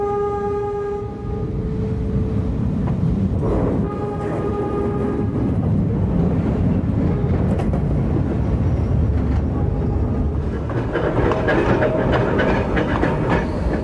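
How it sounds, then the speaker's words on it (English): Freight motor L9 hauls a special shipment of 150-foot tubing sections on the East Troy railroad, its steady rumble and rail clatter rolling close by, with intermittent horn-like tones and clicks building toward the end. "Freight motor L9 was up to the task to move this sensitive shipment"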